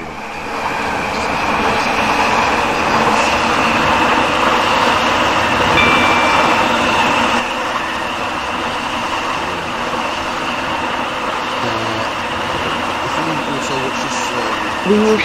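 A Class 730 train in Roblox SCR runs with a steady, loud rolling rumble and a sustained electric whine, continuous and close throughout, with a station announcement voice speaking over it.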